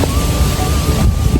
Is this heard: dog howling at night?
no